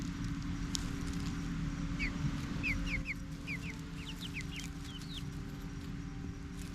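Chicken hens forage outdoors in a permaculture garden food forest, clucking softly at a distance while small birds chirp in quick bursts over a low, steady background rumble.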